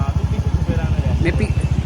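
A motorcycle rides through city traffic, its engine putting out a steady, close low-pitched throb with a regular pulsing rhythm. Someone talks over the engine noise the whole time.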